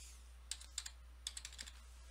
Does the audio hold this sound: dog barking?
no